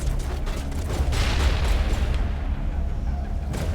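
A deep grenade blast in the video game Mass Effect Legendary Edition, a loud low rumbling boom that swells and then slowly fades into a lingering roar.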